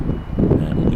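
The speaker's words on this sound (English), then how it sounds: "Sounds a bit windy." Wind buffeting an outside microphone aboard the Cunard cruise ship Queen Anne at the Port of Southampton, a loud low rumbling roar that surges and dips over about a second.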